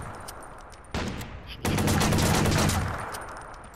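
Gunfire in the video game Watch Dogs, a sustained burst of loud weapon fire that starts abruptly, swells into heavy rapid shooting for over a second, then tails off.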